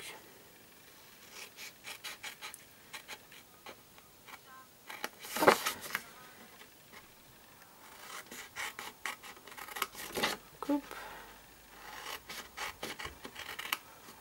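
Scissors cutting through card along a pencilled line in a craft session, giving soft rubbing, rasping snips in short bursts with a louder crisp cut midway, close and fairly quiet.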